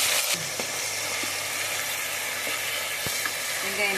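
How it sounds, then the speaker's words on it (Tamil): Finely chopped onions frying in hot oil with cumin seeds, giving a steady close sizzle with a few small clicks and stirs and no talk. "வெங்காயம் நல்லா பொரியுதுங்க."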